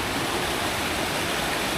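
Water rushing steadily along a stream at Kledang Saiong recreation park in Ipoh, Perak, a dense, even hiss and rumble of flowing water that holds constant throughout, close and fairly loud with no voices.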